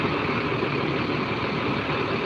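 A Jetbus 3 plus HDD metro bus engine running with a low, steady diesel rumble and hum, close and unbroken, with no talk.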